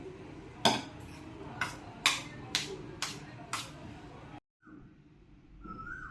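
A spoon mixes sabudana khichdi mixture in a bowl, tapping out about seven sharp, evenly spaced metallic clinks before a short pause and a faint scrape, with no talk.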